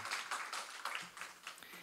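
Church congregation clapping for a speaker coming forward, a short, faint patter of applause rising and fading in quick bursts.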